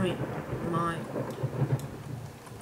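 Thunder rolls through the horror video game Layers of Fear, a deep rumbling swell under rain noise, moderately loud and sustained.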